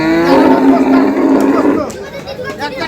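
A dairy cow moos loudly and close by at a cattle market, a long low call lasting over a second, followed by market chatter.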